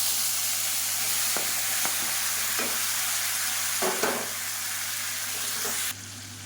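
Garlic and chopped tomatoes fry in a pan for tomato chutney, a steady close sizzle under a low hum, with a few scraping stirs before the sound drops quieter near the end.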